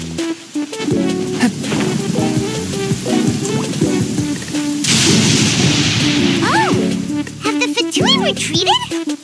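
Rain falls steadily with a thunderclap and crackling strikes during a storm in the video game Genshin Impact, mixed under frequent spoken character dialogue and swooping effect sounds.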